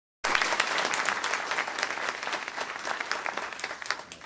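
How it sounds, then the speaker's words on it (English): A crowd breaks into steady applause at a Maryland public event, a dense continuous clatter of many hands starting abruptly and holding moderately loud throughout. "give her a round of applause"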